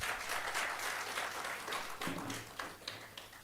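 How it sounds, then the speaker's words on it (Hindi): Audience applause at a motivational talk, a steady wash of clapping that rises and falls over a few seconds, with a brief voice or tone surfacing near the end. "तालियां बजा दो इनके लिए।"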